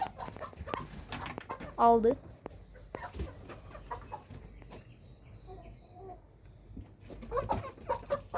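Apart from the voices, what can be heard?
chickens clucking while a chicken is chosen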